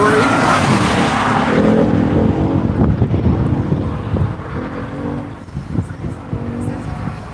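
Race car at the NCM track during Tire Rack One Lap of America, engine roar passing with heavy wind buffeting on the microphone, loud at first and then easing off.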